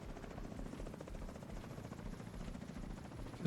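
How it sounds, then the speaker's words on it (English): A helicopter in The Division 2 game hovers with a steady, dense rotor chop that stays at a constant moderate level throughout, with no voices. "Another chopper."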